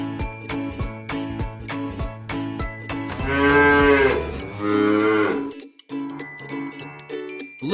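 A cow lets out two long, deep moos, close and loud, over a cheerful tinkling music bed that continues briefly once the lowing stops.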